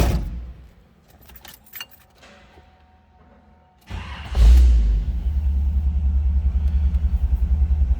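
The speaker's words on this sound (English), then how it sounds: "Let's go ahead and fire this up so you can hear it run." A 1948 Chevrolet Fleetline street rod convertible: keys jingle and a few clicks, then the engine cranks and fires with a loud thump, settling into a deep, steady, close idle rumble.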